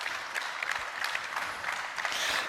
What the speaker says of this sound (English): See, they're even applauding from the other room.